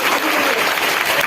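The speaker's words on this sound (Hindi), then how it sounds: "ताली बजाओ अपने लिए।" An audience clapping for themselves, dense continuous applause from a crowd, loud and steady for a brief moment.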